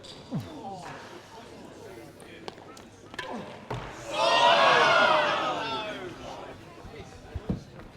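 A crowd at a real tennis match gives one loud rising cheer lasting about two seconds, set among the thuds of ball strikes and a commentator talking over the court.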